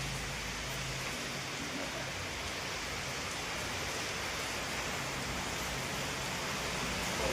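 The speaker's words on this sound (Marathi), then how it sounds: "कसं करावं या पावसाचं" Monsoon rain falls steadily outdoors in a dark rainy season, a dense, even wash of hiss that holds constant throughout with no voices.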